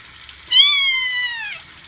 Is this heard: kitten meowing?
yes